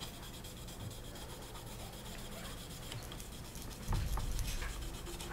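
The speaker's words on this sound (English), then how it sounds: "I'm just scraping away these lines here." A blade scrapes mold lines off a plastic part from a Hasegawa Lancia Stratos HF Stradale model kit, a steady close, quiet rasping rub that continues throughout with no talking.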